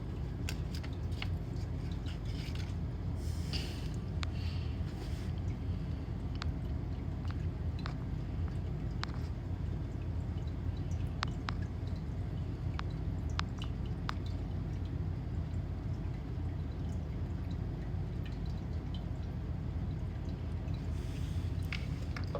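Joss paper ancestor money, dabbed with Florida water, burning up close, with soft continuous crackling and scattered sharp pops over a low rumble throughout.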